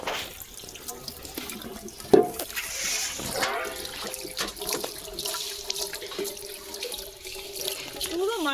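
Sesame seeds being washed and rubbed by hand in water, with splashing and sloshing, a sharp knock partway through, and voices talking over the wet rubbing sounds.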